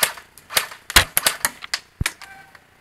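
Sharp, clicky shots from an SSG24 airsoft sniper rifle at Warminster Airsoft, a rapid series of about a dozen close snaps and pops with one heavier thud near the middle, then the sound trails off.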